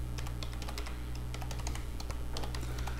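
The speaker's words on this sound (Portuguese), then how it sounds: "Vamos digitar aqui a senha." A password being typed on a computer keyboard produces rapid, uneven key clicks close by over a steady low hum.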